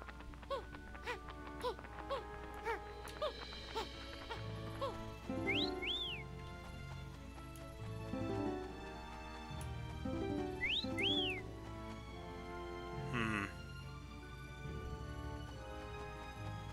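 Whistling in the video game Yooka-Laylee, short rising-falling whistle phrases repeating several times over game music.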